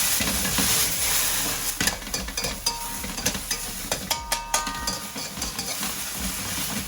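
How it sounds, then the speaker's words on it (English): Water spinach stems stir-fried in a hot wok give a loud, dense sizzle with a run of rhythmic metallic spatula scrapes and clacks against the pan, close up and continuous. "Put the stems in. Then a quick stir fry."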